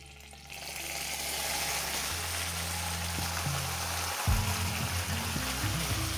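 Marinated chicken with spices and shahi jeera sizzling in hot oil in a pan, a steady close frying hiss with a brief stirring clatter midway.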